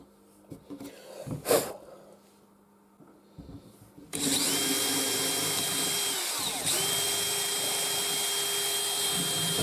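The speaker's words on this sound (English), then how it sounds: "I'm going to have to carefully drill that out" A power drill bores out a gap in a cast resin prop rifle, the whirring motor starting abruptly after a few handling knocks and running loud and steady, its pitch dipping briefly as the bit bites.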